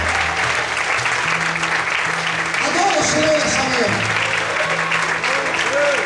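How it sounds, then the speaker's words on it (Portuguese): Church congregation applauding during a morning worship service, steady clapping running throughout under a preacher's voice and harmonic musical tones. "Aplaude a Ele nessa manhã."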